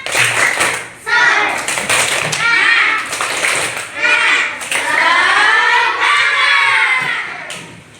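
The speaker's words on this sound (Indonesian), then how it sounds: "coba 1 kali tepuk semangat" A class of children in an Indonesian school lesson clap together in a rhythmic pattern, with bursts of loud shouting and chanting voices over the claps, close and energetic throughout.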